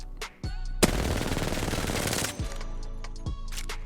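Rapid automatic fire from an R-99 submachine gun with a level 4 barrel stabilizer and level 3 stock in Apex Legends, a dense sustained burst of about a second and a half, loud and close, with brief single shots before and after.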